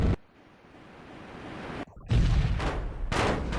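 Helicopter cannon fire in the game Comanche Gold, heavy booming blasts in a few bursts separated by short gaps, loud and close over a rumbling background.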